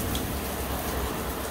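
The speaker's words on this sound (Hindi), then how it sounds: "बारिश तो बहुत ज़्यादा तेज़ है" Heavy rain pours down in a dense, steady roar of drops hitting surfaces, close and loud throughout with no voices over it.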